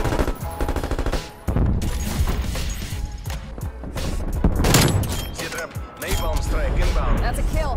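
Gunfire in a first-person shooter video game with a ZRG 20mm sniper rifle: dense bursts of sharp shots and impacts, loud and near, with voices talking over the action.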